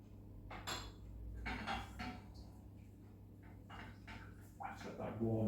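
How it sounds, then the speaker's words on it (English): Peanut butter, jam and coconut are stirred together in a warming pan, with repeated scraping and soft clinks of a utensil against the pan over a steady low background hum. "So once that's all in the pan, I'm just going to just mix that up."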